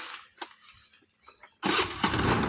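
A 2018 Hero Pleasure scooter in good condition starts up with a self-starter. Quiet handling sounds come first, then the engine catches abruptly and runs loud and steady at close range. No one talks over it.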